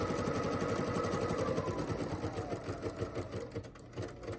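A sewing machine runs a zigzag stitch to attach ties onto a fabric mask, a close, steady, fast mechanical whir with rapid rhythmic needle beats that slow and stutter near the end.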